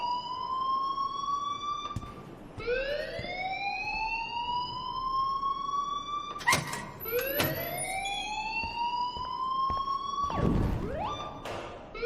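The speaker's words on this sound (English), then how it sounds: "please turn off that alarm since that's your job" Alarm ringing in the video game Life is Strange: a loud electronic siren whose tone sweeps upward again and again in long rising wails, with a few sharp clatters and knocks breaking in.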